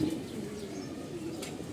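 Racing pigeons coo in a steady low murmur, a continuous soft burbling that stays fairly close and even throughout, with a faint chirp or two above it.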